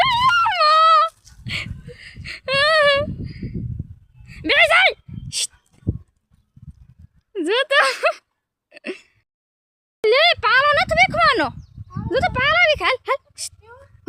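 Dogs whimpering and yipping in short high-pitched bursts, several clustered episodes across the span, close by with people talking in between.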